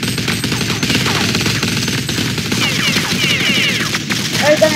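Dense, continuous bursts of rapid gunfire fill an old version of the Counter-Strike video game, loud and close with overlapping shots and voices faintly audible underneath.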